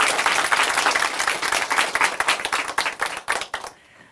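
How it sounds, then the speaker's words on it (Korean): An audience at a Korean Christian testimony television program applauds warmly. Dense, close clapping holds steady for several seconds, then thins into scattered claps and stops. "박수로 함께 응원해 드릴까요?"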